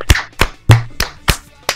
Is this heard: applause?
yes